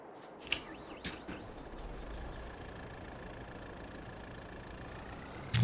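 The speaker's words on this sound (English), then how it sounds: "So we'll get that tractor started" A tractor engine starts and idles in a farming video game, a steady mid-low drone after a few sharp clicks and thumps at startup, moderately loud with no talking over it.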